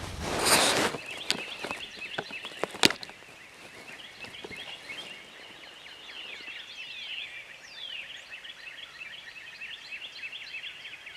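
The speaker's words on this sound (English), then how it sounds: "As these birds start gobbling, they're roosted in the field behind us" Wild turkeys gobble from their roost in a field, with several far-off rattling calls repeating and overlapping after some close rustling and sharp handling knocks at the start.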